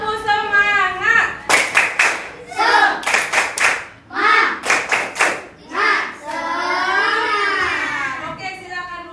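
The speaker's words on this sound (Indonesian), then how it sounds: "Kita buat dulu tepuk semangat supaya pembelajaran kita semakin semangat" A classroom of children performs a rhythmic spirit clap, loud bursts of sharp clapping in patterned groups alternating with chanted voices, ending in a long drawn-out group shout.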